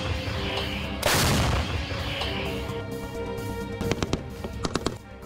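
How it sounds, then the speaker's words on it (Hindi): Gunfire in Russia-Ukraine war footage, with a loud blast of noise early on followed by a rapid string of sharp, distinct cracks near the end over a rumbling background. "गोलीबारी करते दिख रहे हैं।"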